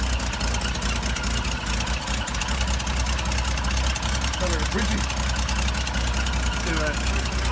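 A 1962 International AB110 truck engine idling on its own, with a flat battery and a gasket fault, a steady low rumble throughout with faint, brief voices in the background.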